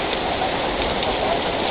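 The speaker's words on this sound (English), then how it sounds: "That is heavy, heavy rain." Heavy storm rain mixed with hail pours down steadily and loudly, a dense unbroken hiss close by with no letup.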